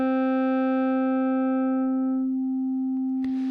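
A synth sine wave under asymmetrical clipping waveshaping gives a steady, buzzy tone whose upper harmonics fade over a few seconds, leaving a near-pure hum, with a faint click near the end.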